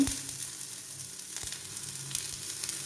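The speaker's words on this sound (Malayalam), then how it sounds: "ഇനി കുറച്ച് തേങ്ങ നമ്മൾ വറുത്തിടുന്നുണ്ടല്ലോ" Grated coconut sizzles steadily in a hot pan while a kootukari dish is being made, a continuous low frying crackle with a few soft stirring knocks, close and alone.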